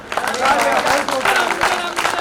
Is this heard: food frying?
no